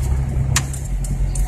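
Manual-transmission car engine revving as the accelerator is pressed during a basic driving lesson, a heavy low rumble that holds steady, close and loud, with faint clicks and ticks above it and no talking.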